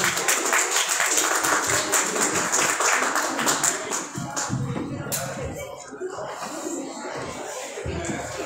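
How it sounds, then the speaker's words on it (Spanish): Live audience applause for two payadores at a comic convention in San Miguel, a dense, steady wash of clapping that stays loud throughout and eases slightly toward the end, with some chatter in the crowd. "Un aplauso a ellos."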